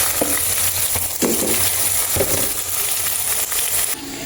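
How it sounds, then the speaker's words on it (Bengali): Sliced onions frying in plenty of hot oil for beresta, a loud continuous sizzle with intermittent stirring clatters throughout. "বেরেস্তা ভাজবো। সেজন্য এখানে দিয়ে দিচ্ছি পেঁয়াজ"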